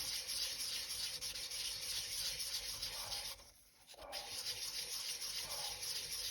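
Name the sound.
sanding a polymer clay bowl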